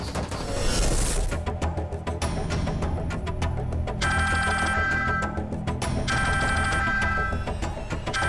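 A phone ringtone plays in repeated electronic bursts, loud and close, over a busy background with other sounds mixed in.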